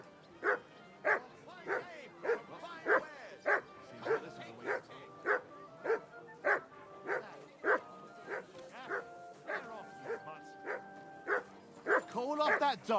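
A dog barks in Kingdom Come: Deliverance 2, a steady series of about fifteen sharp, evenly spaced barks at close range, turning into quicker yips and whines near the end.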